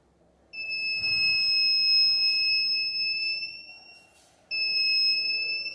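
A buzzer on an electronics learning kit sounds a loud, steady, piercing electronic tone, held for about four seconds, cut off briefly, then resumed, close and alone.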